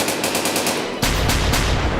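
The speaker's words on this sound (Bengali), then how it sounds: "কে যেন গুলি মারছে" Rapid gunfire in a Bengali-dubbed animated film: a quick burst of evenly spaced shots, then a denser, heavier volley with a deep rumble, loud and close, without speech.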